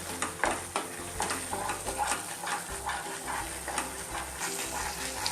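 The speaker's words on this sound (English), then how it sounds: "I kept it on high flame and stir continuously" Peas masala fries over a high flame while being stirred nonstop, a spoon scraping rhythmically through the thick mixture over a constant sizzle, moderately quiet and without talk.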